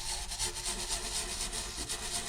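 Dirt is scrubbed off an Epiphone 335 guitar with quick back-and-forth rubbing strokes, a close, rhythmic rasping scrub that continues steadily throughout without any speech.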